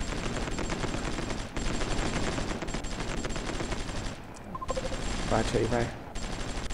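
Sustained artillery and gunfire from the strategy video game Supreme Ruler Ultimate rumble continuously at moderate loudness, with a short break near the end, while someone speaks briefly over it.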